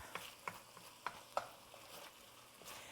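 Ground meat browns in a pot for taco soup, a quiet low sizzle broken by several sharp spatula scrapes and taps against the pot.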